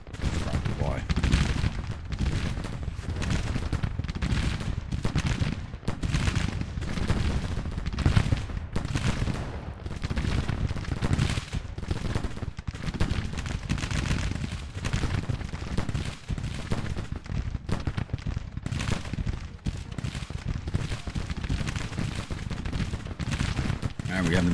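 Dense, continuous volleys of musket gunfire and booming cannon shots from a Civil War strategy game crackle and thud without pause, a chaotic battle din with a voice murmuring underneath.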